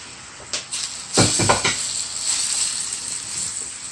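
Ginger hits a hot pan for a shrimp stir fry on medium-high heat, giving a steady sizzle with a louder burst of crackling spatter just after it drops in, then settling to an even hiss.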